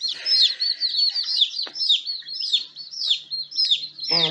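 Newly arrived baby chicks, including Barred Rocks, Americanas and Whiting True Greens, give a close, continuous run of high, shrill peeping chirps, one overlapping another, with a faint low sound near the end.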